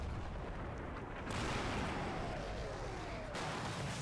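Artillery pounds the area in the WWII Normandy video game Combat Mission: Battle for Normandy, a dense, continuous rumbling roar of fire with a sharp step up in intensity partway through, heard alone without talk.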